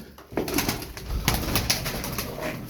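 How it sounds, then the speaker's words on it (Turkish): A pigeon, one of a flock of birds flying overhead, with soft wingbeats and flutter audible over a steady outdoor background for a few seconds. "Bir saatin üstünde uçan kuşlardan bir tanesi bu."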